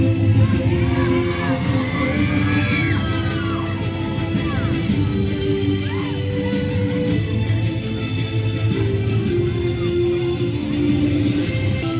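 A crowd cheers and yells at a school sports day for a bronze-medal-winning team, a steady loud roar of voices with scattered whoops running throughout.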